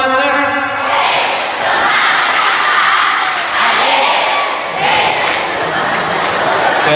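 A crowd of students at a school religious gathering performs the tepuk semangat spirit clap, loud rhythmic bursts of clapping and chanted shouts repeating in waves, with a voice leading at the start.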